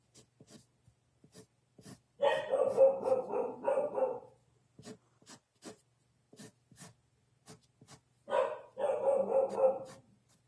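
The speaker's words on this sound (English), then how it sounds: "She likes to bark at things." Penny, a pet dog, barks in two loud bursts of rapid repeated barks close by, with quiet scratching sounds between them.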